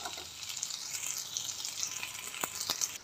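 Bay leaf, ajwain, garlic and ginger frying in hot oil for a rustic sweet-and-sour saag, a steady close sizzle with a few sharp crackles and pops toward the end.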